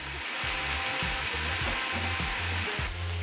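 Beef sizzles and crackles steadily on a hot grill, with faint clicking and scraping of tongs or utensils mixed in, close and without talk.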